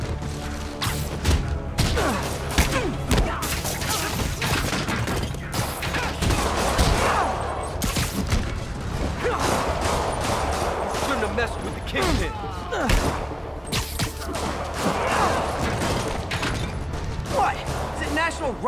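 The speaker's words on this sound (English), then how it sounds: "More rockets? A little excessive, don't you think?" Rockets and explosive blasts in the PS4 Pro game Marvel's Spider-Man (2018), a dense, continuous barrage of bangs, crashes and thuds over steady game noise, with a voice talking over it.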